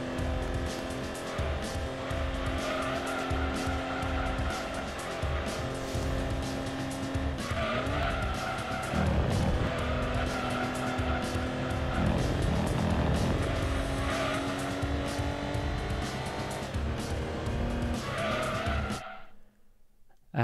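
Racing car engine in Gran Turismo 2 roars loud and steady with repeated tire squeal and skidding through the middle stretch, then cuts out abruptly near the end.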